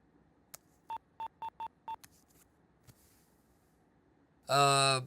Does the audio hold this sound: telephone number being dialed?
yes